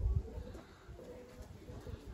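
Young homing pigeons cooing softly in a loft, low repeated throaty coos, faint and close, with no talk over them.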